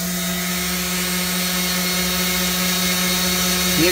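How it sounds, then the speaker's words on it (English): A small orbital sander running off an inverter and battery bank, a steady, even motor hum with a constant buzzing drone, close and continuous throughout. "so we'll try my little orbital sander here"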